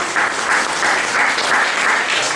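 Audience applause at a dance ensemble's event, a dense, steady burst of clapping from a crowd filling the whole moment.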